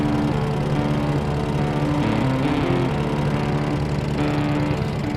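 A 1958 Harley-Davidson Duo Glide motorcycle engine runs steadily while being ridden, a loud continuous rumbling drone with a slight rise and fall in pitch and no voices.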